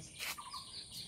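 Myna birds call in short, bright chirps and a few rising whistles, close by and fairly clear over a quiet outdoor background.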